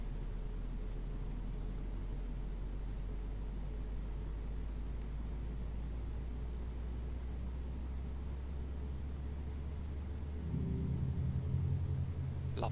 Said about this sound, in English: Let's watch engine 1 start.